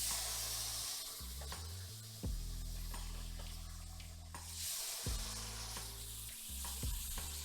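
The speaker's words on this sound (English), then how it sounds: "I'm deglazing the pan with the red wine because I want that flavor." Red wine poured into a hot pan to deglaze the browned fond for Italian beef, sizzling steadily with bursts of scraping and stirring throughout, close and fairly loud, no voices.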